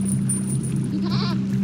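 A goat bleats in the goat area of the puzzle game There Is No Game, a single wavering cry over a steady game background hum.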